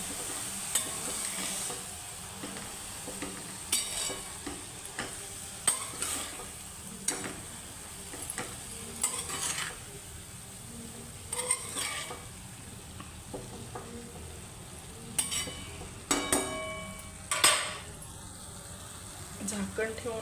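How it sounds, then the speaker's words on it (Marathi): Leafy greens are stirred in oil over a low gas flame, giving a soft continuous sizzle broken by repeated scrapes and clinks of a spoon, with a person talking over much of it. "बारीक गॅसवर एकदा एक भाजीला अशी चांगली भाजी तेलामध्ये परतवून घ्यायची"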